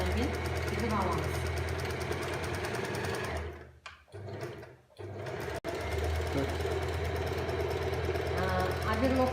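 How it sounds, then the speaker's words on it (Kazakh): A domestic sewing machine running a zigzag stitch along the edges of a fabric piece, a steady close mechanical whirr that stops briefly midway and then resumes. Someone talks over it. "Осының шеттерін сетнемеу үшін зигзаг операциямен тігіп аламыз."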